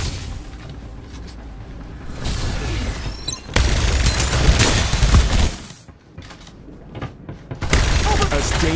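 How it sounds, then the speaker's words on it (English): Weapon reloading in the shooter Farlight 84: mechanical clicks and ratcheting clatter amid gunfire and in-game voice lines, with a louder burst midway and brief quiet gaps. "Reloading!"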